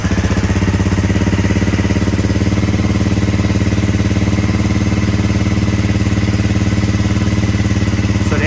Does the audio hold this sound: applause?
no